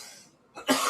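A single short cough, preceded by a soft breathy throat sound, from a man whose throat was tickled after taking a dab; close and alone.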